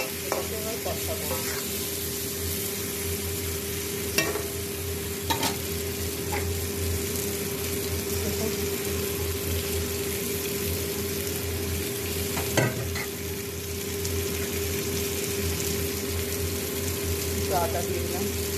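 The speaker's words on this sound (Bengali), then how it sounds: "এবার ভালো করে এটাকে এবার কষাবো" Potatoes and eggplant with turmeric and salt fry in a pan for a fish curry, a constant loud sizzle with repeated scraping stirs and occasional clanks of the utensil against the pan.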